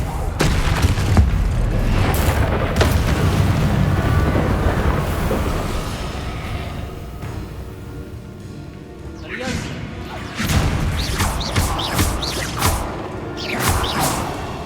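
Repeated blasts of the Confringo fire spell in the Hogwarts Legacy video game: loud crashing booms and whooshes over continuous game noise, with a voice calling out spell names throughout.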